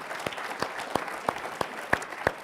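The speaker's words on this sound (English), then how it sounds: "Round of applause, please, for our entire panel talking about skills." A forum audience applauds a panel at a Southern Africa–France business event. Dense, continuous clapping fills the room, with a few louder individual claps standing out near the microphone.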